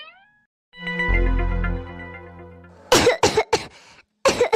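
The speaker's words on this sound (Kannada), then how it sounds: "ಯಾಕೋ ತುಂಬ ಕೆಮ್ಮು ಬರ್ತಿದೆ ಕಣೋ" Elderly woman coughing in a cartoon, heard as a series of harsh, rough coughs in quick bursts, preceded by a sustained strained vocal tone, loud and close with no other speech.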